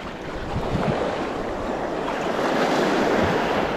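Waves washing onto the shore at Sifah Beach in Oman, a broad steady roar of rough surf with wind buffeting the microphone, continuous and fairly loud, with no talking.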